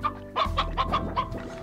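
A chicken in the video game Slime Rancher clucks in a quick run of about six evenly spaced notes over a low background drone, close and clear with no speech.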